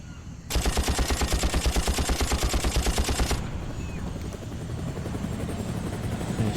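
Helicopter hovering in the shooter game Far Cry Instincts Predator, its rotor a loud rapid thudding pulse that abruptly cuts to a lower, rougher whirring drone for the remaining seconds.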